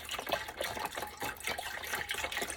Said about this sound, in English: what we're gonna do now is put the chicken broth in the pot